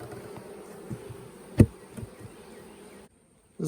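Honey bees hum steadily at an open hive in late November in South Alabama, a soft continuous buzz with a few brief knocks over it before the sound drops away near the end.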